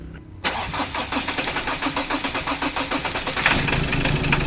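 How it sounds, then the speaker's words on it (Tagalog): A 2013 Ford Ranger engine that won't start cranks loudly and evenly, its rhythmic starter pulses carrying a rough grinding noise close up, with no voices over it. "itry lang muna natin start okay, engine start"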